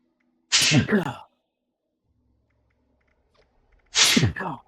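Two loud, close sneezes about three seconds apart, each a sharp burst with a gasping intake, separated by near silence.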